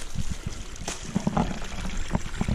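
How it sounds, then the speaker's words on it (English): A natural spring bubbles up out of the ground on a steep hillside, giving a close, continuous trickling and gurgling with small irregular splashes throughout. "It's actually a spring bubbling on the ground here."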